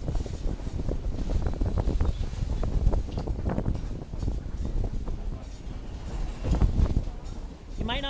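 Durango and Silverton railroad train running at a 2011 railfest, a steady rumbling roar throughout with wind buffeting the microphone, while people talk nearby over the noise.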